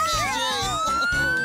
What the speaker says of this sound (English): Well, it sounds like some kind of siren.